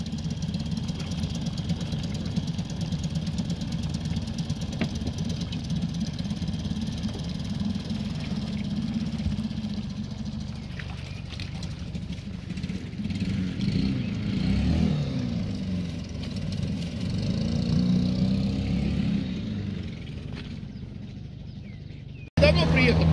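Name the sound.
Mercury outboard boat motor idling while warming up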